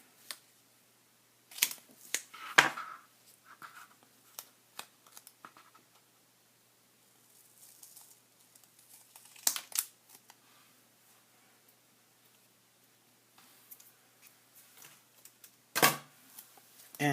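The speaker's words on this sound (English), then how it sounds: "I'm going to take some foam tape and kind of cut it to size here." Scissors cut foam tape for a handmade holiday card in a few sparse, close snips and clicks separated by quiet pauses.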